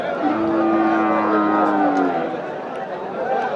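A single drawn-out moo from cattle at a cattle market in Nilphamari rises over a dense, noisy crowd murmur, fairly close and lasting a couple of seconds.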